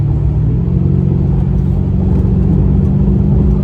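2015 Mercedes S550 coupe 4Matic accelerating, a loud, steady low engine rumble with road noise heard from inside the cabin, without a break.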